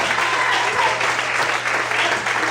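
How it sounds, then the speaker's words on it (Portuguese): A congregation claps throughout a Portuguese-language evangelical church service, continuous applause filling the room at moderate loudness, with a low electrical hum beneath it. "Você pode aplaudir o Senhor?"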